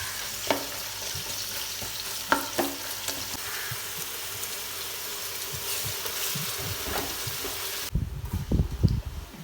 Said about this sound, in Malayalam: നീറുള്ളിനെ നല്ല ഫ്രൈ ആക്കണം, അല്ല ഗോൾഡൻ കളർ ആകുന്നിടത്തോളം ഫ്രൈ ആക്കണം